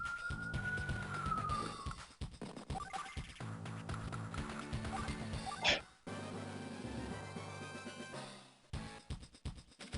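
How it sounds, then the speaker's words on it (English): Police sirens wail outside a building, a rising and falling tone near the start that blends into a busy mix of other sounds, with thumps and clatter throughout and no clear speech. "It sounds like this building is just surrounded by police."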